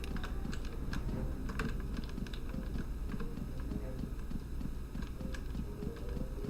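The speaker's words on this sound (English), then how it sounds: "I am playing this with the keyboard" Rapid, steady clicking of computer keyboard keys pressed while playing a video game runs through the whole stretch, fairly quiet and close, over a low hum of game audio.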